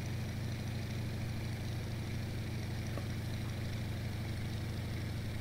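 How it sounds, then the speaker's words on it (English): A strained, overheating aircraft engine droning steadily in the IL-2 Sturmovik combat flight game, a continuous low rumble with a faint wash of wind and airframe noise, heard alone without talk. "My engine's sounding really weird right now."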